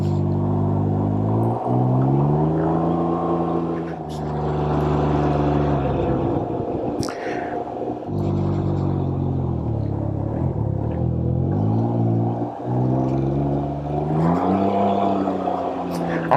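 A 2022 Can-Am Ryker Sport three-wheeler riding over a bumpy road, its engine humming steadily with rising and falling pitch as it shifts gears, under constant wind rumble.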